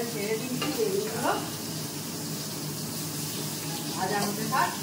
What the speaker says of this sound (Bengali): এবার বেগুন ভাজাটা করে নিচ্ছি। দেখলে বেগুন ভাজাটা ছেড়ে দিচ্ছি